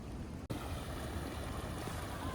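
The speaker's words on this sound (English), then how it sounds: "I'm just on this side of that little waterfall" A small waterfall on a creek in the woods pours in a steady, full rush of water that fills the space, close by and continuous apart from one brief dip.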